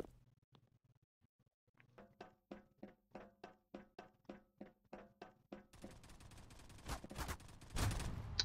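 Rapid bursts of machine gun fire in a video game, a steady run of evenly spaced sharp shots that gives way to louder, denser gunfire and noise.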